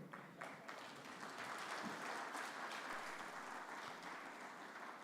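Audience applause at a formal presentation of an annual status report, continuous dense clapping throughout, fairly quiet and distant but steady from start to finish.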